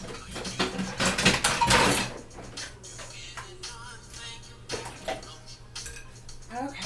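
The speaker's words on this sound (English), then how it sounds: "I'm grabbing the plate from one of these here." Plates and dishes clatter and clink close by, busiest in the first two seconds, then lighter scattered knocks and rattles continue.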